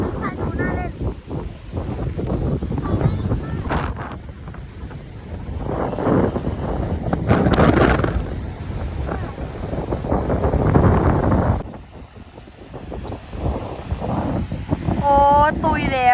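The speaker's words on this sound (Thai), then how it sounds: "นี่ลมแรงมากทุกคนกำลังเข้าชายหาดมันก็เลยลมแรงมาก" Strong wind buffeting the microphone on a beach at Khao Lak, Thailand: a continuous rough, gusty roar that swells and dips, with people's voices talking underneath.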